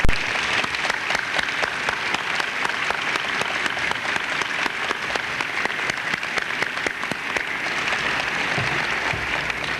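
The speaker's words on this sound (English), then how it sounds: "I think we should give them a round of applause for their commitment" Sustained audience applause for retiring school staff at a high school gathering, dense steady clapping from a large crowd lasting throughout, fairly loud and even with no talk over it.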